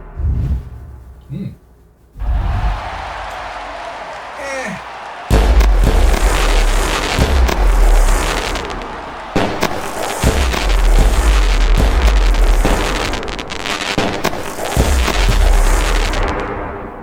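Fireworks effect celebrating a card reveal in the baseball management game OOTP26, with bursts and pops rising into a loud sustained crackling barrage marked by several sharp booms after a quieter start.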